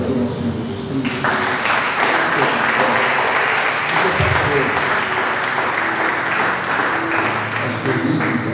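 A church congregation applauds loudly and steadily for several seconds, a dense wash of clapping with voices and some tonal background sound mixed underneath.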